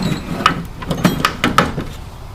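A Craftsman tool chest drawer slides open with rattling, scraping metal and several sharp clicks and clunks from loose wrenches and sockets, close by.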